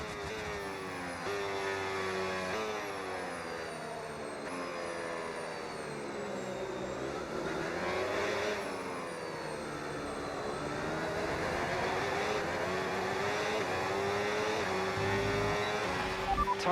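Race car engines roar through a video game race, a dense, continuous howl of several cars with rising and falling revs and gear shifts, loud and sustained throughout without speech.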